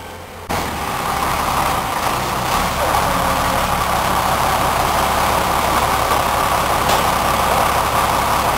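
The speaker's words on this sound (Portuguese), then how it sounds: "Deixa o caminhão passar." A truck rumbles past nearby on a road, its heavy low engine drone rising suddenly and holding loud and steady throughout.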